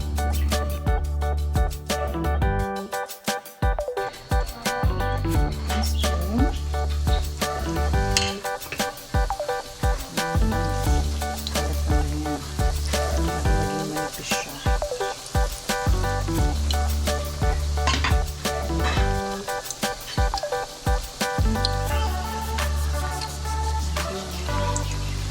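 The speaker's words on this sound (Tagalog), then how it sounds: "Ready na siyang iprito." Papaya ukoy fritters frying in hot oil, a steady, dense sizzle with crackling pops that goes on throughout, plus occasional clinks of a utensil against the pan.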